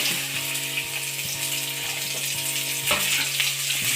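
Cumin seeds spluttering in hot oil in a pan: dense close crackling and sizzling with scattered sharp pops and a brief louder burst near the end, no voices.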